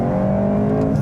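An all-wheel-drive Volkswagen Golf R hot hatch under hard acceleration, a steady, loud engine drone with strong harmonic tones heard from inside the cabin, briefly and without talk.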